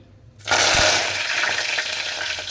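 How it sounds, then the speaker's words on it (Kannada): Curry leaves and chana dal drop into hot oil and burst into a sudden loud, crackling sizzle that stays intense and spattering for a couple of seconds, close and alone. "ನೋಡಿ ಹೇಗೆ ಚಟಪಟ ಅಂತಿದೆ."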